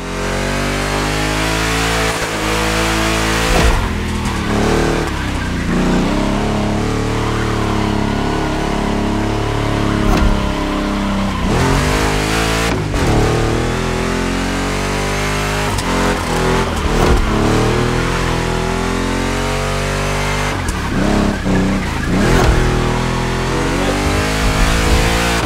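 A big block street car in the racing game The Crew Motorfest revs hard and drifts, its engine roaring loudly and continuously with repeated rising and falling pitch sweeps as the throttle is worked, with no talk over it.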